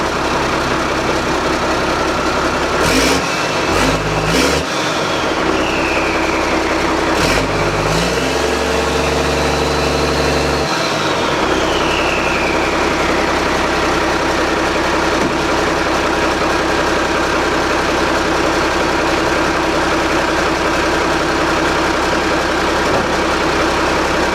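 A project truck's engine cranks and catches, with a few sharp bursts and revs early on, then settles into a loud, steady, close idle that runs alone to the end.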